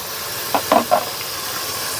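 Tomatoes frying in a pan for vegetable biryani give a steady close sizzle and hiss, broken by a few quick knocks of a stirring spoon against the pan.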